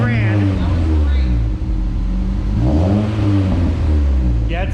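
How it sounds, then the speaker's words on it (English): Cold car engine revved a few times in a driveway, rising and falling in pitch, steady and close, with people talking over it. "Rev it up a little bit."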